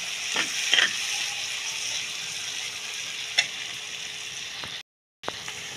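Chicken sautéing with ginger and turmeric powder in a pan gives a steady, soft frying sizzle with a few scraping stirs and light clicks, close by and without voices, briefly dropping out near the end.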